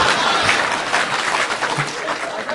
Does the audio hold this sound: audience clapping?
yes